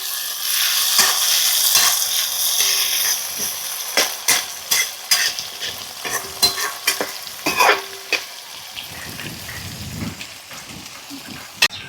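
Tomatoes, onion and peanuts frying in a pan for a village-style leftover chapati dish, loud sizzling at first, then a quick run of sharp spatula scrapes and clicks against the pan, close by with no talking.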